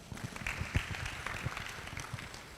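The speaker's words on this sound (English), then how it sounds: "Please, a round of applause for her." Scattered clapping from a small audience, steady and moderately loud, with no voices over it.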